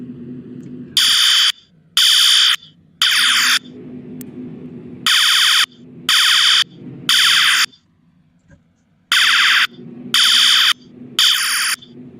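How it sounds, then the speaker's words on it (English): Fire alarms sound in a city-building video game set in Madrid, Iowa, blaring in loud, regular repeated bursts separated by short gaps, over a low background hum, with no talking. "why are the fire alarms messed up?"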